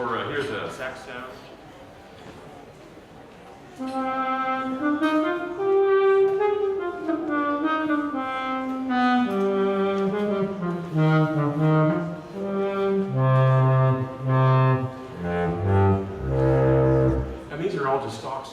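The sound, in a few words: saxophone stock sound from Logic Pro X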